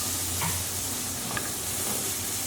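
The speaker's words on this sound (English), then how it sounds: "we're going to add our corn straight in" Corn kernels tossed into a hot pan with black pepper and sweet paprika, sizzling steadily and loudly with stirring and a few small crackles, close and alone without talk.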